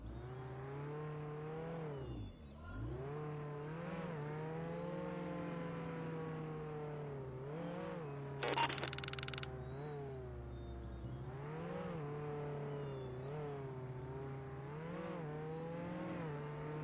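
A car in Roblox Jailbreak on PlayStation drives with a steady, droning engine hum that rises and dips as it revs and slows, with a brief metallic clatter midway.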